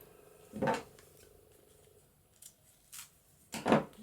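Scissors cutting paper for an altered book: a few separate crisp snips, close and fairly quiet, spaced by pauses and ending with one firmer cut.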